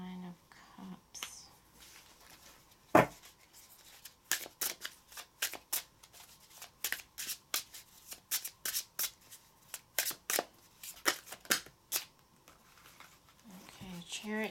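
Tarot cards being shuffled close up in a run of quick, sharp riffling bursts, with soft murmuring speech before and between.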